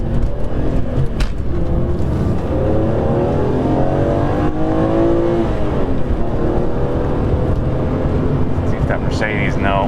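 A BMW E46 M3's engine revs up and down in rising and falling sweeps as the driver rev matches on downshifts, heard from inside the car under steady road noise.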